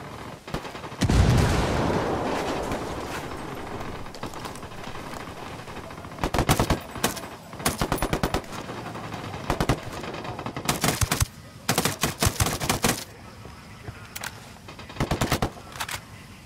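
Machine gun fire in the open-world shooter Ghost Recon Wildlands: a loud boom early on, then repeated rapid bursts of automatic fire, short and long, spaced through a steady outdoor background.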